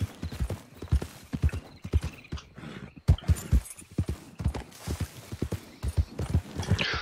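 Horse hooves clip-clop in Red Dead Redemption 2, a steady rhythmic gait of close, clear hoofbeats running throughout with a brief whinny-like sound and little else over them.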